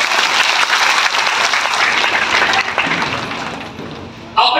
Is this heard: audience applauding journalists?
yes